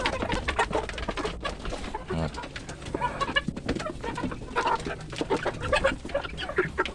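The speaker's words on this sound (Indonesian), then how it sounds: "Kalian bisa lihat sendiri bagaimana keagresifan ayam ini untuk menikmati pakan alternatif yang kita buat." Free-range village chickens cluck and squabble busily while pecking eagerly at homemade alternative feed, a dense, close flock chatter of overlapping clucks and scratching with no talk.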